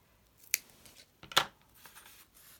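Two sharp snips of scissors cutting paper while making a birthday card, close and crisp with a quiet gap between them and a few soft rustles after.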